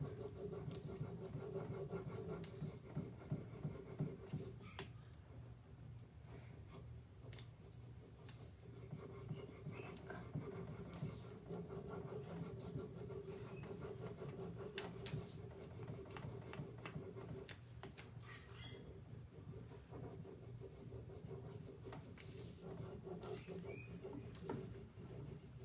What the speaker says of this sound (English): we're just going to start rubbing while we're pulling back.